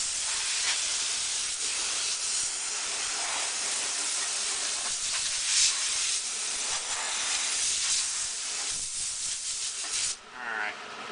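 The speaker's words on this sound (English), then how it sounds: "I'm gonna blow this chip pan off once." Compressed air hisses in long continuous blasts, clearing metal chips out of the chip pan of a Logan 700 lathe, steady and close with brief pauses and shifts near the end.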